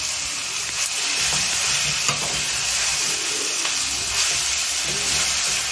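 Curry leaves and ground pepper sauté in a pan for potato masala, giving a loud, continuous close-up sizzle and hiss with scattered small pops and no talk.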